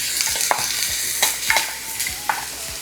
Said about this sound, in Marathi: हे छान कॅरमलाइज झाल्यानंतर तुम्ही एकदा ह्याला एकत्र करून घ्या